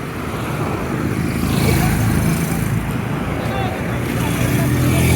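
Dense, slow-moving road traffic with engines rumbling and a continuous loud roar heard close by while walking past stalled cars, with people talking over it.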